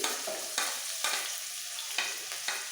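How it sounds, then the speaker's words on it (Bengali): Chopped garlic sizzles in hot refined white oil, a steady frying hiss broken by several sharp bursts of spatter and stirring scrapes spaced about half a second apart, close and alone. "সাদা তেল বা রিফাইন অয়েল তেল ভালোভাবে গরম হয়ে গেছে দিয়ে দেবো রসুন কুচি"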